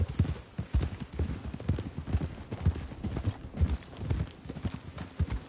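Horse hooves in Red Dead Redemption 2 clip-clop in a steady walking rhythm, rounded thuds repeating close by, with faint background ambience.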